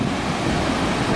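Ocean waves at high tide, a steady broadband wash of surf with wind buffeting the microphone, loud and continuous with no voices.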